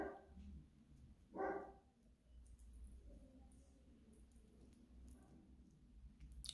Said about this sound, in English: the neighbor's dog barking